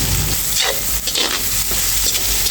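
Vegetables with garlic powder frying in a pan, a loud continuous close sizzle with soft shifting stirs passing through it.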